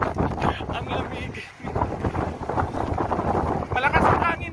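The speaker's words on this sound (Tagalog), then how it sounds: "Malakas ang hangin dito ngayon," Strong wind gusts roar steadily across the microphone outdoors in Saudi Arabia during rain, a loud, continuous rushing with a voice mixed in.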